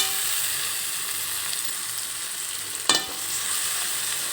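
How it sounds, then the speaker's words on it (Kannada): Chopped onions fry in oil with a steady, soft sizzle, and a single sharp clack near the end sounds like a utensil striking the pan. "ಆ ಒಂದು ಈರುಳ್ಳಿಯನ್ನು ಹಾಕ್ಕೊಂಡ್ಬಿಟ್ಟು ಅದನ್ನು ನಾವು ಫ್ರೈ ಮಾಡ್ಕೋಬೇಕು ಫ್ರೆಂಡ್ಸ್, ತಾಳಿಸ್ಕೋಬೇಕು"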